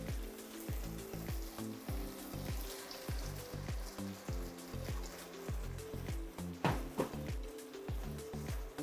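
Tomatoes go into a pan of sizzling vegetables for a slow-cooked beef cheek sauce, with a constant frying hiss and a steady rhythm of spoon scrapes and stirs, close and alone.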